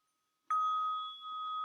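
A struck meditation bell rings once with a clean, sustained tone that hangs steadily after a sharp strike, heard alone in a quiet room during a dharma talk.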